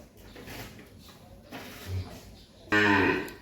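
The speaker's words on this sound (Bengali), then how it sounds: "এই হলো আমার আজকের 11 নম্বর একটা ফ্রিজিয়ান বকনা বাছুর" An eight-month-old Friesian heifer calf on a farm gives one loud, close moo near the end, after a few seconds of quiet shuffling and faint rustling.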